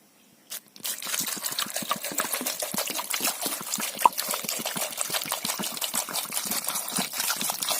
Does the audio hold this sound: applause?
no